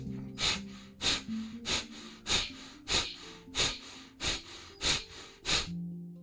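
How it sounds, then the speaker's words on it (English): Rapid, forceful nasal exhalations of a fire breath exercise, with the belly pulled in on each one, come in a steady rhythm of about ten sharp puffs, close and loud with no talk. "By exhaling, you pull the belly in and you do it rapidly."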